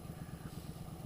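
A 1988 Yamaha XV1100 Virago V-twin idles with its carburetors out of tune, giving a low, steady, pulsing rumble close by with no talk over it.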